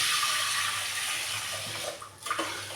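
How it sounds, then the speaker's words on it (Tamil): Water is poured from a vessel onto washed green gram while cooking at home, a steady, fairly soft rushing splash that breaks into a few louder splashes near the end. "இந்த சொம்பால் ஒரு சொம்பு தண்ணி போட்டுக்கலாம்"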